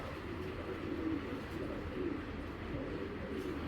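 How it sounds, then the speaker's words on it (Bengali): A pigeon from a high-grade fancy breed collection coos in low, repeated soft calls, close by over a constant hissing background. "দেখেন খুব হাই রেঞ্জের একটা কবুতর।"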